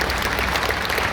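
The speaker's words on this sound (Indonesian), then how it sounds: "Tepuk tangan yang keras" Loud applause from a congregation at a church service in Surabaya, a short, dense, steady burst of clapping that fills the room.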